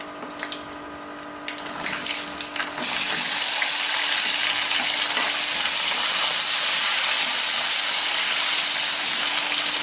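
Fenugreek seeds and spices with asafoetida sizzling in hot oil for a Tamil vendhaya kuzhambu, starting quieter and then bursting into a loud, steady hiss and crackle that continues to the end.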